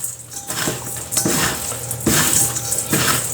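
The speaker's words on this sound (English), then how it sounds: "Get everything mixed together." Tuna casserole ingredients with bacon being stirred together in a dish, with repeated loud scraping and clinking of a utensil against the cookware in a steady rhythm.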